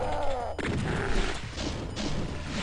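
Booming gunshots and crashing impacts from the 1994 video game Doom, one sharp blast followed by continuous loud gunfire and mechanical clatter over a dense, noisy background.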